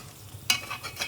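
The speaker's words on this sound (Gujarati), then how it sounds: "બેસે નહીં ને એટલે વચ્ચે ચમચો ફેરવી દીધો." A spoon stirs spring onion curry in a pan, giving a soft scrape and a brief sizzling burst partway through, then quieter stirring sounds over a low background.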